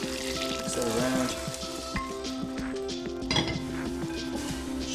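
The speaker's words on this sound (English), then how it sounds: "Just trying to absorb or mix all of the butter into the popcorn." Buttered popcorn with parmesan is tossed and mixed in a bowl, giving close rustling and light clinks of utensils against the bowl, fairly steady over the few seconds.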